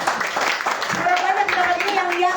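A congregation at a New Year church service claps rapidly and enthusiastically, with voices calling out and cheering over the dense, close hand-clapping.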